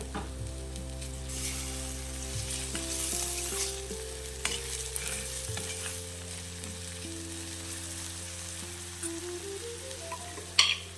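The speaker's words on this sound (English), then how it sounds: "After a while, add the chopped tomato and mix it well. Let it cook for another minute." Chopped tomato cooks in a pan for methi sabji, giving a soft, steady sizzle under a constant low hum, with occasional stirring scrapes and a sharp clink near the end.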